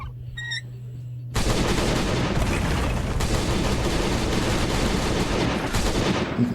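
Rapid automatic turret gunfire in the Last Day on Earth survival game bursts in after a short electronic beep, a dense, sustained volley of shots that stays loud and continuous to the end.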